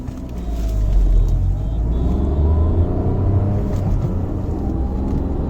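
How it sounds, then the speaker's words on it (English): Steady low engine rumble builds as a Tata Altroz iTurbo pulls away from standstill in city mode and accelerates, a continuous droning roar from inside the vehicle. "let me just try starting this car in city mode itself, just 0 to 100"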